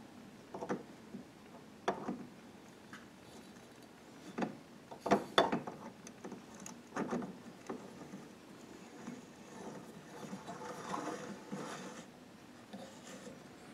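An oversized gun barrel is threaded by hand with a die on oiled threads for a flash hider, giving quiet, close metallic ticks and scraping clicks in short irregular turns, with no talking.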